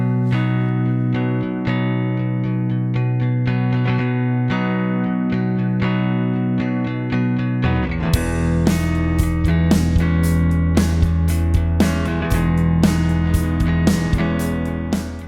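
Groove-driven electric guitar part recorded straight off the amplifier, steady chordal strumming that shifts after a few seconds into punchier, rhythmically accented chords, upfront and alone.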